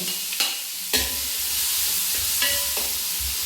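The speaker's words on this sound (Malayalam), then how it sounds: "സബോള നമുക്ക് പകുതി ഇടാം ഒപ്പം തന്നെ പച്ചമുളക് ഇടുന്നു" Sliced onion and green chillies dropped into a hot pan, a loud steady sizzle opening with a couple of sharp clatters as they land, under a low hum.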